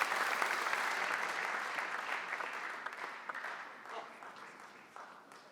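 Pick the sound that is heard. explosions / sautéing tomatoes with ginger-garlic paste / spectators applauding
spectators applauding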